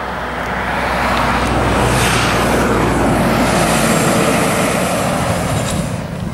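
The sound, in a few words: wagon driving along a back road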